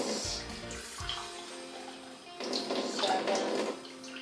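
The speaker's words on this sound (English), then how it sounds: "I want to add 8 measures of water" Cold water pours from a tap or jug into flour to make starch paste, a rushing splash that stops briefly and then returns more fully, fairly close with no speech.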